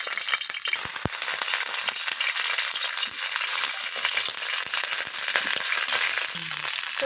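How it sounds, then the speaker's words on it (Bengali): Cauliflower florets fry in mustard oil with a steady, loud, close sizzle and scattered sharp crackles and pops, continuous throughout without speech. "কপিগুলোকে আমি লালচে লালচে করে একটু ভেজে নেব"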